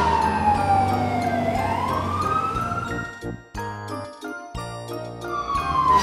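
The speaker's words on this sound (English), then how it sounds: "Fire engine." A fire engine siren wails with a sweeping pitch that falls and rises, mixed with a bright tinkling jingle and a burst of rhythmic electronic tones, loud and continuous with no speech.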